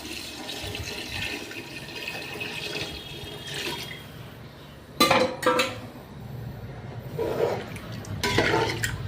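Water splashes and pours into a metal pot of chicken biryani masala in a few bursts, with clinks of cookware in between, fairly close and without talk.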